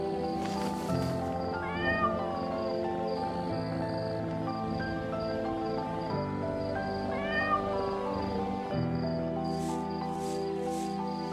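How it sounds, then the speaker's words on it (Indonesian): Candramawat, a pet cat on a house veranda on a full-moon night, gives two soft, drawn-out meows several seconds apart over a steady, gentle musical background. "Sedang bermain dengan Candramawat, kucing kesayangannya"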